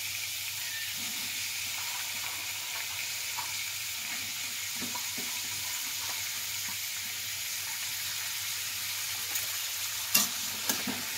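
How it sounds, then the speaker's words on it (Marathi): Cluster beans (guar) frying in half a spoon of oil in a pan make a steady, close sizzle and hiss, with a few light clicks of stirring and one sharper knock near the end. "त्याच्यामध्ये अर्धा चम्मच मी तेल टाकलेलं आहे आणि आपला गवार स्वच्छ धुवून घेतला आणि नंतर आपण थोडा फ्राय करून घेऊया"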